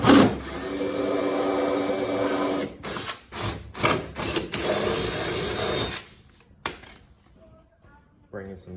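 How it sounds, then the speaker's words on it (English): A power drill whirs in several bursts, starting and stopping as it bores a hole through a wide-body kit side skirt on a 1JZ-swapped Nissan 180SX, then falls quiet with faint clatter afterward. "just gonna drill a hole"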